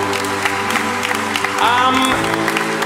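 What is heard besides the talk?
audience applause for the brass players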